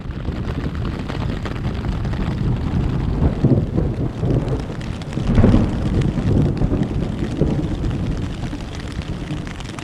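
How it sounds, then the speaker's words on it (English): A heavy nighttime thunderstorm over a campsite, with a steady roar of wind and rain and a deep rumble of thunder swelling midway, all close and loud. "we have a huge thunderstorm overhead"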